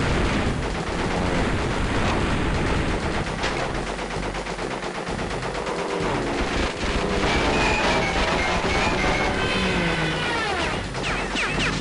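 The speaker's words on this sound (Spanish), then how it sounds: "Otro disparo." Rapid bursts of video game gunfire in Crash Bandicoot: Warped rattle on and off over a rumbling, noisy mechanical background, loud and close throughout.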